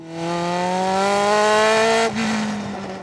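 Brabham race car with a 3-litre Ford DFV engine, slick tyres and wings, on track testing: a loud, close, sustained engine howl rising steadily in pitch, with a brief dip near the end before the note continues.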